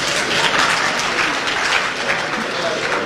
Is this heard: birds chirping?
no